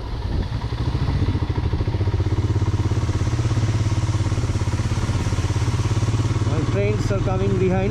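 A motorcycle rides the rippling mountain roads of North Sikkim with a loud, steady engine drone and road rumble close up throughout, while a rider speaks briefly over it near the end.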